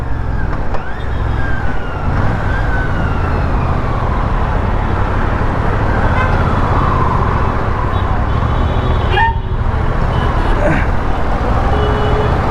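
A Royal Enfield Classic 650 motorcycle rides in fourth gear with a steady, loud engine drone blended with heavy wind rush. The sound runs unbroken throughout, with faint whining tones drifting in and out.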